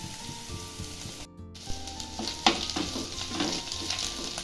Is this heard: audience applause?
no